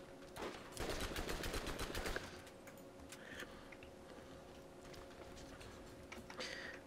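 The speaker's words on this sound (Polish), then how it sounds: "Który to do mnie strzela i skąd?" Gunfire aimed at the player in the shooter game Borderlands, rapid bursts of shots crackling in a dense cluster early on, then sporadic distant pops over a steady low hum.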